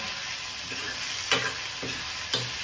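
Curry leaves hit hot oil in a pan for a Marathi-style green pea (matar) vegetable dish, giving a steady close sizzle broken by a few sharp stirring scrapes.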